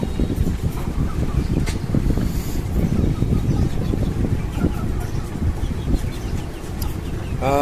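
Desi chickens cluck and murmur on a rooftop farm, a busy mid-distance flock sound with scattered bird calls over a windy, rustling background.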